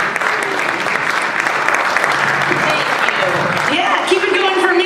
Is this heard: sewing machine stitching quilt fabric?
no